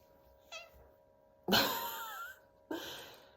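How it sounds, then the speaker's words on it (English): A cat meows three times close by: a short chirp, then a long drawn-out meow, then a brief final one, in a quiet room. "My cat."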